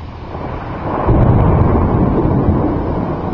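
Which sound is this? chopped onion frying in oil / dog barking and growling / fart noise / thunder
thunder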